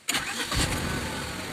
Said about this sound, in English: Now I will start the engine.